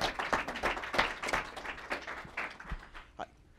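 An audience at a panel discussion on diversity in tech claps, a moderately faint, short burst of scattered applause with no talk over it.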